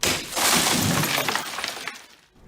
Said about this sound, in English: So how do movies handle breaking glass?